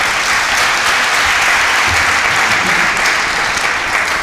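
Loud sustained applause from a business summit audience after a speech, a thick continuous roar of many clapping hands close by, with no talk over it.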